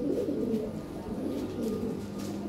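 A breeding pair of Lahore pigeons coo in low, throaty, repeated rolling calls, close and moderately loud, with no speech over them.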